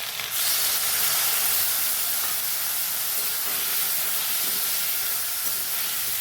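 Soaked spice paste of cumin powder, chili and turmeric hits lightly fried potatoes and taro in a hot pan, giving a loud, steady sizzle and hiss that starts abruptly and holds without break, with no talk.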